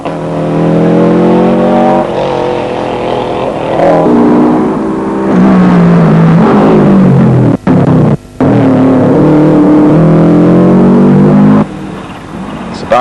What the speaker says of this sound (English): Bruce Herbert, Subaru, chasing the Nissan down the slippery mountain